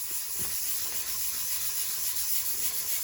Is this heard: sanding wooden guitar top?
yes